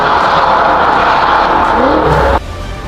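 Car engine roar, partly synthesized and played through the cabin speakers as in BMW M models, heard from inside the car as a loud steady drone that drops off abruptly near the end.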